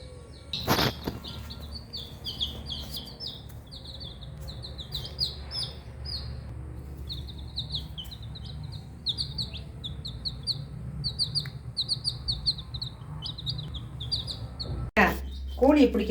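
Chickens in a village yard, with repeated short bird calls and chirps running steadily through the scene at moderate distance, over low background noise and a brief rustle near the end.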